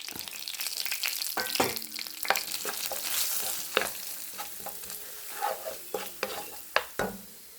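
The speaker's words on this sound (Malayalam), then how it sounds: "നമ്മുടെ കടുകൊക്കെ പൊട്ടിട്ടുണ്ട്, കറിവേപ്പില ഇടുകയാണ്." Mustard seeds and curry leaves sizzle in hot oil, with spice powders added: a quiet, close crackle with sharp scattered pops and stirring scrapes.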